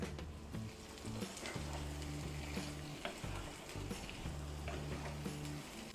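Chettinad chicken gets stirred in a pan, making a quiet, continuous sizzle with scraping and stirring strokes throughout and background tones underneath.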